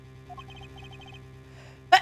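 A single short, sharp sneeze bursts out near the end, loud and close, after a stretch of soft game music with blipping text-scroll beeps from a courtroom adventure game.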